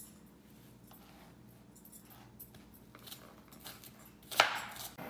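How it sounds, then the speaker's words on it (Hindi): A knife chopping a whole onion into small pieces in a home kitchen, with quiet repeated taps on a cutting board building to a sharper knock near the end, faint and close with no talking. "इसी तरह से मैं सारी प्याज पूरी काट के रख दूँगी"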